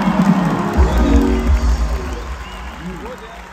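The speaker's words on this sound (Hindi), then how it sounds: "तालियां भी खुल के हो जाए" A live comedy show audience applauds and cheers, with loud clapping at first that fades over a few seconds while someone talks over it.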